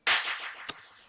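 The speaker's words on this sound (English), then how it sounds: "So this is just a clap." A processed clap sample from a Reason rack in electronic music production: one sharp, bright clap with a long reverb-like tail and a smaller secondary hit partway through, heard alone.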